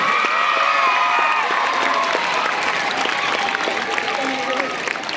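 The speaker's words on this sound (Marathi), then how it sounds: "यांच्यासाठी जरा जोरदार टाळ्या होऊ देत बरं का" An audience at a student guidance event claps loudly and continuously, with a dense wash of clapping, some cheering and voices mixed in, while a voice rings out briefly over the applause.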